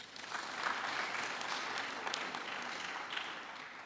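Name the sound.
applause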